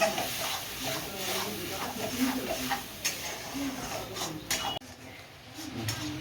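Masala spices frying and being stirred in a pan, with a soft continuous sizzle and scraping stirring strokes, fairly quiet and close, with faint talk in the background.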